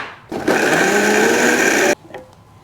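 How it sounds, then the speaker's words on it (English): A kitchen blender runs in one steady loud burst of about a second and a half, whirring through a Peruvian chicken marinade with black pepper, then cuts off abruptly into quiet. "Okay, so we're going to take all this and get it blended up."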